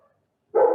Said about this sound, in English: my dog's starting to bark